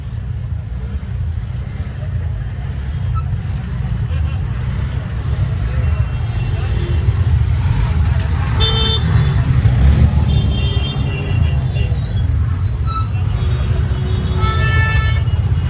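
Vehicles sit in a road traffic jam. A constant low engine rumble fills the scene, while several car horns toot in short bursts midway and near the end, with people chatting close by.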